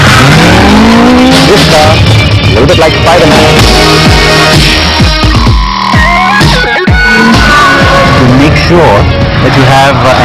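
A loud race car engine roars and revs under steady backing music, with pitch sweeping up and down through gear changes.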